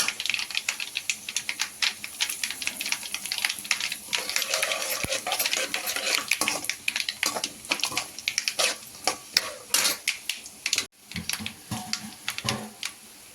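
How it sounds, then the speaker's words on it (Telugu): Dried red chillies fry in oil for a tempering, giving a dense, crackling sizzle full of sharp pops and clicks, steady and close throughout. "ఎండుమిర్చిని బాగా ఫ్రై చేసేసుకుందాం"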